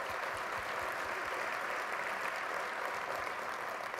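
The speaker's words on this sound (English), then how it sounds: "Let's give them a round of applause." A conference audience applauding sponsors in a large hall, an even wash of clapping at moderate distance that holds steady throughout.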